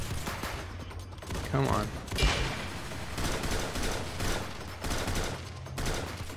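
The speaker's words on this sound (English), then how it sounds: "Definitely shooting these guys." Rapid bursts of gunfire from the Roblox shooter game Arsenal, crackling loudly and almost continuously throughout, with a player's voice briefly speaking over the shots.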